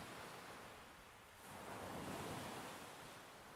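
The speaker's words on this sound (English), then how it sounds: "looking out at the waves right now, the gray sky overhead, I feel happy." Ocean waves and surf roll in under a gray sky, a continuous soft wash of breaking water that swells louder midway and then settles, with no voices.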